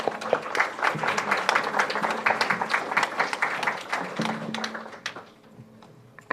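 A room full of people at a debate competition in Belmopan, Belize, claps steadily for several seconds, the applause thinning out and fading near the end.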